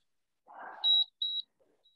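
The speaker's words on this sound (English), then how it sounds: "there's your beep, rest" A workout interval timer sounds two short, clear electronic beeps in a row to signal rest, after a brief soft rustle, with no talk.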